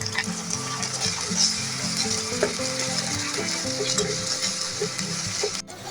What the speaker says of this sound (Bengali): এরপর দিয়ে দিচ্ছি এখানে আদা রসুনের পেস্টটা।